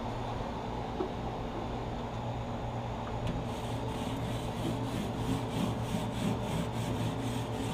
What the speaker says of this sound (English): you just want to just scrape it a little bit so when you do to your next cook that it won't have no remnants of old food on it